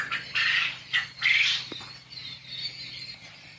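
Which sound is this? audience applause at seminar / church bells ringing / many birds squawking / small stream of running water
many birds squawking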